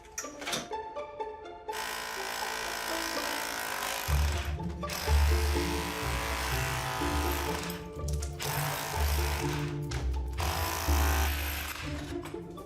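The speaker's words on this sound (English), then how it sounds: "To find out, Mark sets to work with his big drill." A power drill grinds loudly and steadily into a wall, hitting stone behind it, with a few brief pauses before it starts up again.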